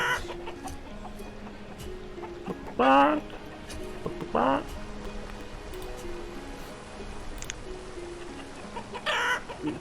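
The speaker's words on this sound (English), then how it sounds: "Look at all those chickens." Chickens cluck in the video game Banished, a few short bursts of clucking rising over a steady background of game ambience, with a person talking throughout.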